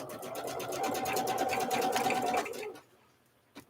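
A sewing machine stitching a thread vessel runs in a fast, steady whir of rapid needle strokes for several seconds, then stops, leaving a quiet pause and a single small click.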